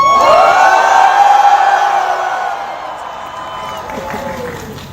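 A large crowd of Seoul National University students at a general student assembly roars with sustained shouting and cheering. The loud collective yell swells, holds, then gradually fades.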